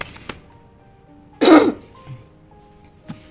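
A single sharp cough bursts out at close range in a quiet room, loud and brief, followed by a soft throat sound.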